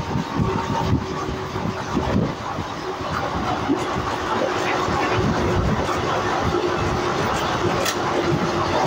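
Sahid Express passenger train rolling into Guskara station, a steady loud rumble with wheel clatter filling the whole span, no clear voices standing out.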